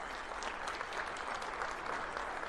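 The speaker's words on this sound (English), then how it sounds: "Can we give them a round of applause, please?" Steady audience applause at a skilled-trades keynote, many hands clapping in a dense, even wash that holds at moderate level throughout.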